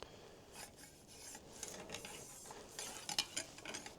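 A cleaning patch scrubs back and forth inside a muzzleloader bore over the crud ring, a faint rasping rub that grows a little louder and choppier toward the end.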